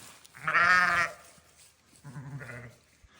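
Two bleats from ewes on a working farm, a longer loud call followed by a shorter lower one, fairly close with no talking.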